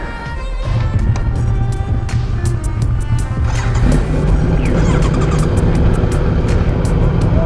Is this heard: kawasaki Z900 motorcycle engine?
yes